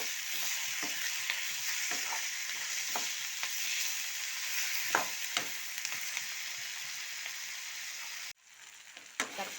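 Onions and small tomatoes sizzle steadily in a pan for an onion chutney, with occasional stirring scrapes, before the frying cuts out briefly near the end and resumes.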